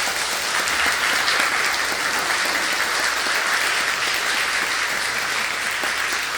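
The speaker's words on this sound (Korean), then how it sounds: "우리 박수로 크게 환영하시겠습니다." A church congregation applauds to welcome a guest preacher, a retired pastor of a leading Korean Methodist church, with steady, dense clapping filling the room for several seconds and no talk over it.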